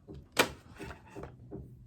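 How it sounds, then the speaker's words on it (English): Knocking from a neighbouring home carries through the walls as a few dull thuds, one sharper knock followed by softer muffled bumps, faint and indoors. "We've also got some knocking from my neighbors."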